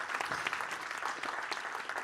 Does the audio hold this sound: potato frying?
no